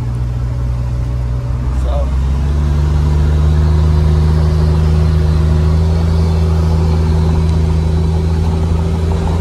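A Buick Grand National engine running steadily with a deep low drone and a constant hum from inside the car, loud and close, with a brief voice early on.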